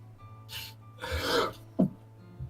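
A single short sneeze-like burst, fairly close and moderately loud, followed by a smaller vocal catch, over a low steady background hum.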